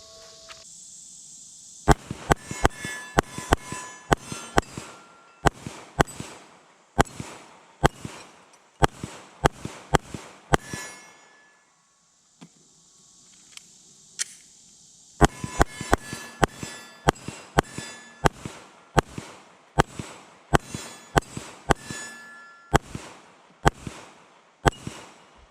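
Glock 19 Gen 5 pistol shots, sharp and loud, fired in quick irregular strings with a brief pause partway through, each crack ringing out over open, quiet surroundings.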